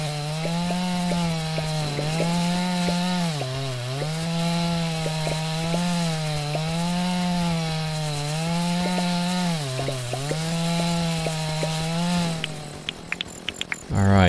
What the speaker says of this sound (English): And let's switch to chainsaw.